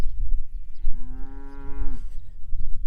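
A single long cow moo rises near and loud from outdoor cattle in a field, steady and drawn out for about a second before breaking off, with wind-like rumble and farmyard background around it.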